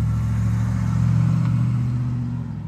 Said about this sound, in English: Don't know if the engine noise of that car just came onto the video or not